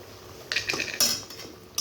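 A metal spoon stirs spices with salt and turmeric in a pan, giving a few short, close scraping clinks against the metal in an irregular rhythm over faint background hiss.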